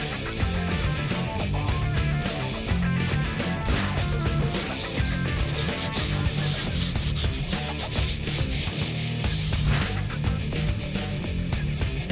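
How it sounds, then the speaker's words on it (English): Continuous abrasive scraping of sandpaper worked back and forth over hardened body filler on a fiberglass car hood, close and steady in rhythm for the whole stretch. "shaping and sanding as I go."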